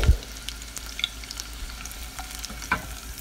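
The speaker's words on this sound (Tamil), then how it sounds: "இப்போ இஞ்சியும் பூண்டும் நல்லா வதக்கியாச்சு" Ginger and garlic sauté in hot oil in a pan for a guava leaf chutney, a close crackling sizzle broken by a sharp utensil scrape at the start and light stirring clicks.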